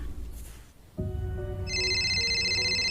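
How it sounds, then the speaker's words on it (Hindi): A telephone ringtone starts about a second in and keeps sounding steadily, with a bright electronic warble layered over a lower tone, loud and close in a quiet room. "आ गया फोन।"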